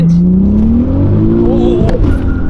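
A 380HP turbocharged VR6 MK4 GTI at full throttle, engine note climbing steadily in pitch through the rev range, loud and close from inside the car, with a brief shift-like break near the end.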